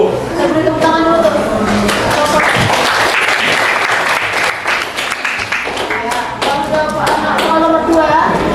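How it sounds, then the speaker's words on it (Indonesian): A school class claps hands in a lively burst of applause during an Indonesian-language lesson, loud and close, sustained for several seconds with overlapping voices and a teacher talking through it. "Saya beri tepuk tangan dulu tuh."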